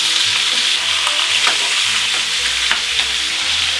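Meat browns in a hot pan, a loud, steady sizzle and crackle with occasional scraping knocks as pieces are stirred and turned, no speech.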